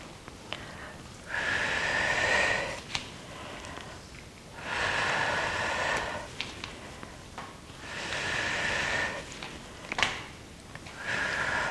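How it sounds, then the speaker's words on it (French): A person breathes in and out slowly during a gentle resistance-band arm exercise, with three long, audible, airy breath cycles separated by brief quiet pauses. "Allez, dernière fois, inspire et expire."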